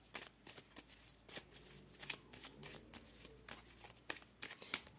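Lenormand fortune-telling cards are shuffled by hand in a quiet room, producing soft, repeated riffling and flicking bursts in an irregular rhythm, close and gentle.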